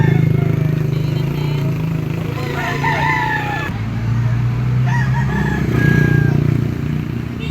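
A three-year-old Gilmore green-legged rooster crows twice, close and loud, over a steady low engine hum with other fowl clucking faintly nearby.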